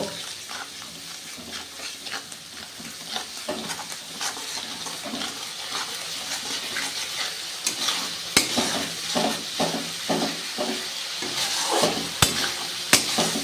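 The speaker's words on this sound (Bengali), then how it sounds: "জল দিয়ে ভালো করে মশলাটা আমি কষিয়ে নেব" Spice masala for soybean do pyaza is sautéed in a pan with a splash of water, giving continuous close sizzling with repeated scraping stirs that grow louder and busier toward the end.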